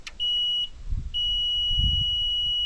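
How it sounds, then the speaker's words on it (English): A 2022 Takeuchi TL12-V2 high-flow compact track loader sounds its fuel fill-level indicator: a short high beep, a brief pause, then a long steady beep over faint low rumble. "if you were filling it up with diesel fuel and you press and hold this, so the shorter the beeps are, the more full you are"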